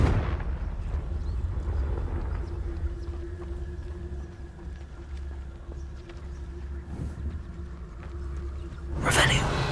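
Confringo blasting spell cast in Hogwarts Legacy, a booming fiery burst with rumbling low end, followed by game ambience and a sharp second burst near the end.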